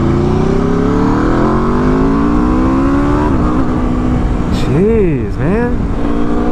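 A 2021 Aprilia RSV4 1100 sport motorcycle engine climbing through revs in rising sweeps, then dropping and surging again in quick up-down bursts near the end, loud and close under steady wind rush, with a rider briefly exclaiming.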